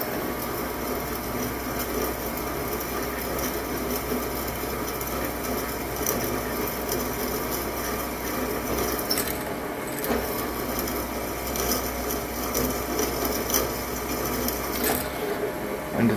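A drill bit bores into copper vise jaws, a steady whirring grind running continuously and close, with brief dips and small clicks near the end and no talk.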